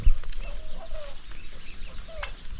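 A turkey on a small farm gives a few short, warbling gobbles, including a quick burst near the end, over faint background noise.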